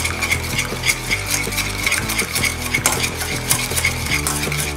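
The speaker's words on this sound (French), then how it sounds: "il ne reste plus qu'à incorporer le beurre coupé en morceaux. Et à bien mélanger pour l'incorporer." Butter pieces are stirred into thickened crème pâtissière in a pan, a steady run of soft rhythmic scraping and wet slapping from the utensil, close and moderately loud, with no one speaking.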